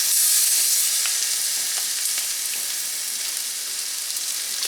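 Garlic paste fries in a hot pan, giving a steady, bright hiss that is close and fairly loud, starting strongest and easing slightly, with faint crackles and no talking.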